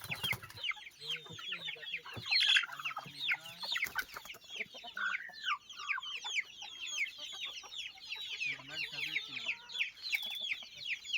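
Hens and chicks cluck and cheep continuously, a busy flock nearby with overlapping high peeps and lower clucks throughout.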